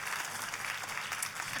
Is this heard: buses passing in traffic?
no